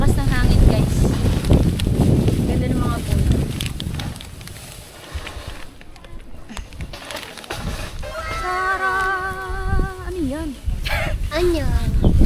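Strong gusting wind buffets the microphone in a stormy mountain village, a heavy low roar that eases midway and then returns, with people talking over it.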